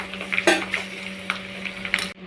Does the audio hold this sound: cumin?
yes